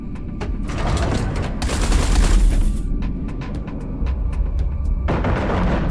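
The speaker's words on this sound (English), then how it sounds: "Eduardo, concentrate artillery fire on Blakemore's carrier." Heavy artillery fire pounding a carrier in the space shooter Everspace 2, loud bursts of rapid booming shots with short gaps, dense and close throughout.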